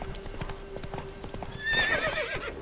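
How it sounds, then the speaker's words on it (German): A panicking horse in The Witcher 3 whinnies loudly and shrilly in the second half, after steady clip-clop of hooves throughout. "Diese blöde Pferdepanik."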